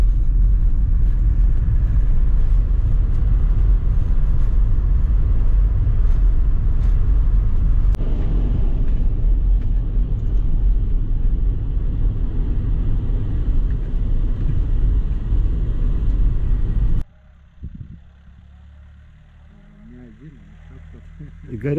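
Steady interior car rumble with engine noise while driving along a road to a rural farmstead, loud and continuous for most of the clip before dropping abruptly to a quieter hum near the end.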